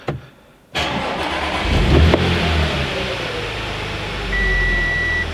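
An Audi S5 under rebuild after a wreck cranks and fires up close by, then settles into a steady idle with a brief rev swell and a chime-like beep near the end.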